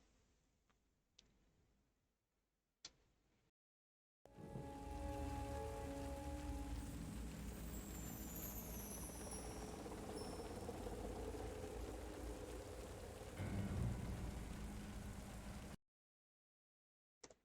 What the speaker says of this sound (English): the rain sound effect has been added to the music